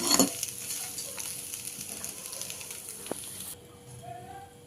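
Okra masala rice with peanuts, curry leaves and green chillies frying in a pan, a close continuous sizzle with stirring scrapes that suddenly drops to a quieter hiss, with no talking.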